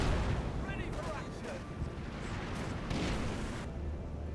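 Mortar pit fire in Company of Heroes 2: muffled distant thumps and booms with scattered battle noise over a steady low rumble, a voice faintly in the mix.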